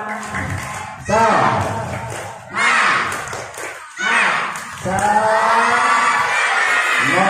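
A group of children clap and shout a rhythmic chant in bursts at a religious gathering, loud and close, with crowd noise and thumping claps between short pauses.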